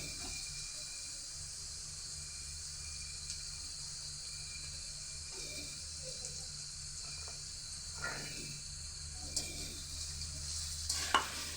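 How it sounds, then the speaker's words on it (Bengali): Capsicum for fried rice sizzles in a pan while being stirred, a faint continuous hiss with occasional soft scrapes and taps of the spatula, louder near the end. "আমি এখন ক্যাপসিকামটাও দিয়ে দিব"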